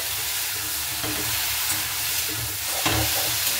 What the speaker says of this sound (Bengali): এবার দেখুন খুব ভালো মতো করে আমি নাড়াচাড়া করে নিচ্ছি